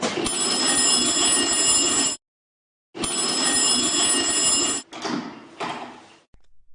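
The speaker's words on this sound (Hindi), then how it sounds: "इस टेलीफोन की घंटी इस तरह से घनघनाई थी।" An old magneto telephone bell rings in two long, loud metallic bursts separated by a short pause, followed by a few clattering knocks.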